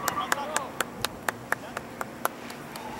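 Steady rhythmic hand clapping in applause for Rafa, player of the Cerveceros after a penalty, about a dozen evenly spaced claps at a brisk pace over faint background chatter.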